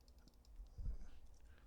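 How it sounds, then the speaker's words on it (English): Typing on a computer keyboard, a few soft, close key taps with a brief louder cluster in the middle, over a low steady hum, no talking. "okay, and I type it in there"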